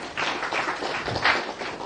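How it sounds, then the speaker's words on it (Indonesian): Audience clapping at a sponsoring seminar, a short burst of many hands applauding together, fairly close and steady, with no talk over it. "Tepuk tangan untuk Bapak dan Ibu."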